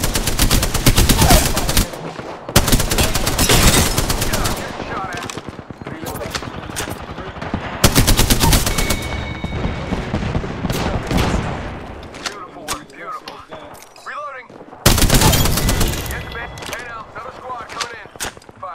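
Gunfire in the Apex Legends video game, loud dense bursts of rapid automatic shots with a few single cracks, near and continuous, with players talking over it.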